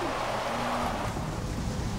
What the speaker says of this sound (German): Ist ja auch klar, es regnet ja.